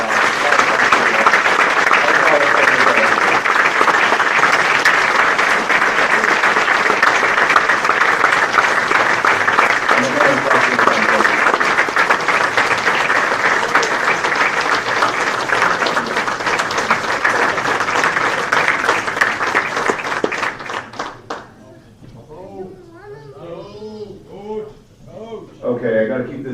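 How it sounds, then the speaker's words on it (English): Loud, sustained applause from an audience at a hall of fame induction ceremony, dense clapping filling the room for about twenty seconds before cutting off abruptly, after which someone speaks. "So again, round of applause for Rob."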